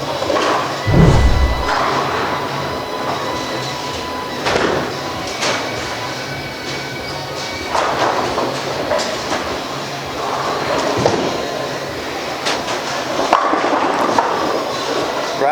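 A bowling ball rumbles down the lane and crashes into the pins during a league match, followed by a steady low roll and clatter amid constant alley background noise, with a commentator's voice faintly beneath.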